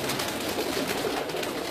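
A Batera pigeon coos softly and continuously at close range in a pigeon fancier's loft, with faint background rustle.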